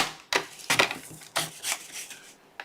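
A paper trimmer slices through cardstock in several quick, crisp swipes, with a rustle as the sheet is handled between cuts, close and fairly quiet.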